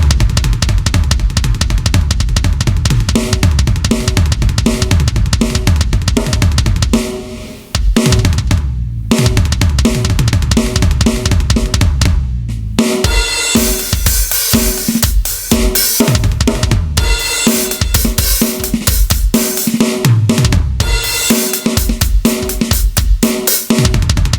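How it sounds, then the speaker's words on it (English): Loud, busy drumming rolls steadily across the toms, with dense repeated hits and a brief pause partway through. "if I just play that on the toms alone"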